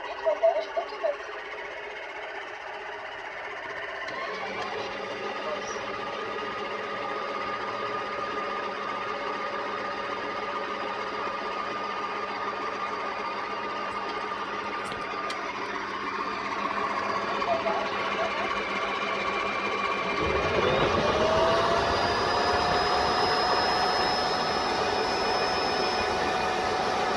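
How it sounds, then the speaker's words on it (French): A Tineco Floor One S5 wet vacuum runs its automatic self-cleaning cycle, a steady mechanical motor whir that holds for a long stretch, then shifts to a louder, higher whirring tone partway through, close and continuous. "je vais lancer plutôt l'auto-nettoyage. Démarrer le nettoyage automatique."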